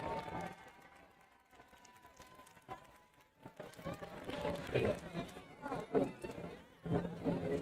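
Homecoming crowd at a high school football game claps and cheers for the homecoming royalty, scattered applause swelling in the second half while an announcer's amplified voice talks over it.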